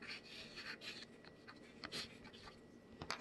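Chalk scratching and tapping across Dollar Tree chalkboard paper, pre-seasoned, in a run of short, close strokes with brief pauses between them and a sharper tap near the end.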